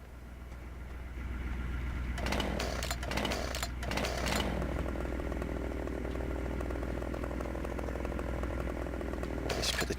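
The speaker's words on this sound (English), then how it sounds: "Let's put the chainsaw away." A chainsaw on a farm revs up and runs steadily and loud for most of the stretch, with a few sharp bursts of throttle near the start and again at the very end.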